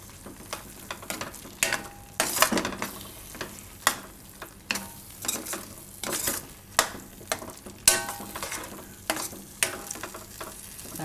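A spoon stirs broccoli and cashew curry in a pan, giving repeated scraping, clinking strokes in an uneven rhythm over a soft sizzle, close by and with no talk.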